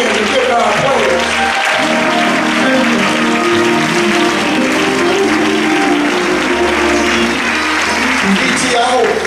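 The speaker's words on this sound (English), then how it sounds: "Come on, clap those hands and give God praise." A church congregation claps its hands in praise, loud continuous clapping blended with music and voices filling the room throughout.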